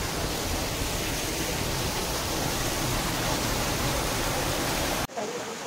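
Water of the Netravathi river rushes loud and steady, a broad close roar like a cascade along a trekking trail, cut off abruptly near the end by a sharp drop in level.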